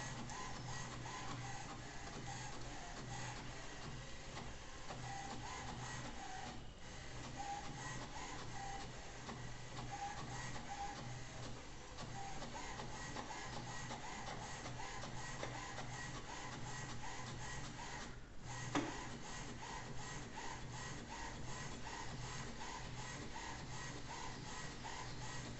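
HP Ink Tank 115 colour inkjet printer feeding paper and printing, a steady mechanical whirring with repeated rhythmic clicks and shuffling of the print head, running continuously at moderate volume.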